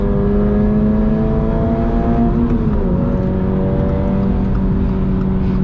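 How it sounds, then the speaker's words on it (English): Engine note of a 2022 Subaru BRZ with a six-speed manual during a launch, a steady loud harmonic drone that climbs and then drops slightly near the midpoint as revs shift, continuous and close with no talking. "that was a weak launch, but it's playful in that it wants to drift."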